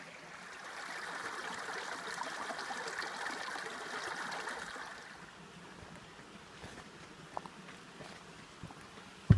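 Creek water running through a canyon beside an old cabin, a steady rushing flow that is fuller for the first few seconds, then eases to a quieter trickle with a couple of small knocks near the end; no talking.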